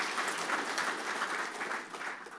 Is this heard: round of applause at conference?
yes